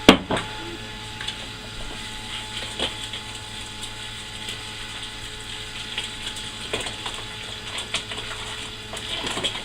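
Water runs steadily into a grain mash while it is being mixed for home-brewed beer, a continuous gushing hiss with occasional knocks and scrapes from stirring, fairly close.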